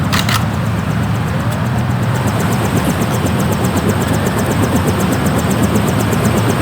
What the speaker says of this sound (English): Take the helicopter back to base.